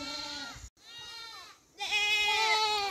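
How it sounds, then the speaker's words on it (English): A hybrid goat bleats in long wavering calls, loud and close, with a brief gap and then a stronger drawn-out bleat. "So that's a goat"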